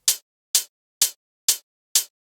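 Five evenly spaced hi-hat hits, each bright and hissy with a short natural decay, repeating at a steady pace with no other sound.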